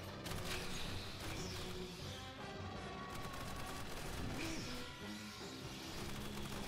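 Automated turrets firing during a firefight in the video game Aliens: Fireteam Elite, a dense, continuous clatter of rapid gunfire and crashing impacts with no pause.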